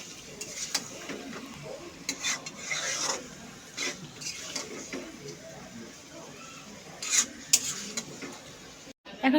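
Potato and meat curry being stir-fried in a pot: close, uneven scraping and rasping of a spatula against the pot with faint sizzling, steady throughout with a few louder scrapes.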